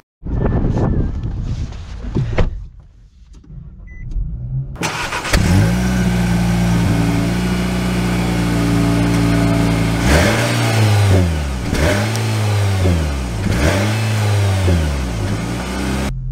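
A 2023 Nissan Sentra SR starts up and its medium engine settles into a steady hum while driving, with repeated rising revs as it accelerates through gears, loud and close with no talking.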